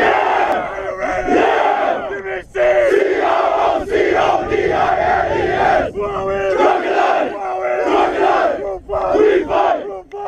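A crowd at a Cologne Crocodiles sports game cheers and shouts without letup, a dense wall of loud voices rising and falling in rhythmic chant-like bursts.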